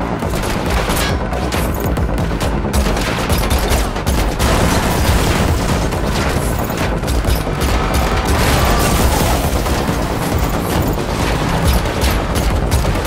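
Loud, continuous gunfire during a car chase in The Matrix Awakens, an Unreal Engine 5 game demo: rapid overlapping shots and booms in a relentless barrage with no break.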